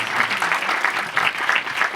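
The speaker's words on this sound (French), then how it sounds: "Applaudissements s'il vous plaît." A lively crowd claps together in a loud, sustained burst, with rhythmic swells in the applause and no speech breaking through.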